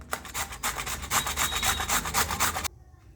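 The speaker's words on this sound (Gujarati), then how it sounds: "આવી રીતે આપણે છીણી લેવાનું" Rapid rhythmic scraping of beetroot against a grater, close and steady for a few seconds before stopping abruptly.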